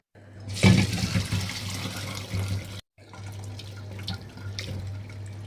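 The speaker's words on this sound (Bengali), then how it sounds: "এইদিকে আমি এটাকে ছেঁকে নেব" Boiled meat and broth being strained for homemade cat food, a steady pouring, splashing liquid sound with a sharper splash early on, a brief break, then more trickling and dripping.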